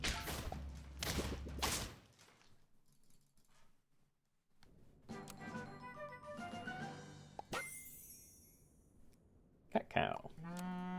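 A cartoonish cow moo from Super Auto Pets, part of a busy stretch of game sound effects with whooshes, bursts and a sharp high sweep, heard alone at moderate loudness.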